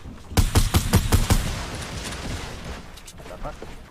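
Rapid burst of gunfire from a Fortnite-style shooter battle, several sharp loud shots in quick rhythm during the first second and a half, then fainter in-game sounds with a voice talking over them.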